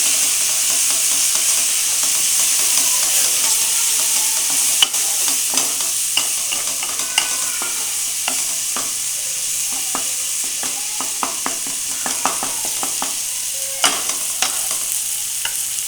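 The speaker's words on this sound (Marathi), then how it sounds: "त्यानंतर टोमॅटोची पेस्ट मस्त तेल सुटेपर्यंत मसाला भाजून घ्यायचा" Tomato paste masala fries in oil in a pan for a live crab curry, a steady loud sizzle and hiss with scattered scrapes and taps of a spoon stirring throughout.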